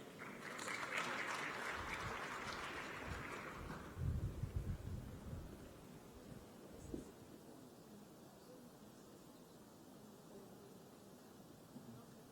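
An audience at a summit on women and girls in digital technology gives faint applause that lasts about four seconds. Quiet room noise and a few soft thumps follow.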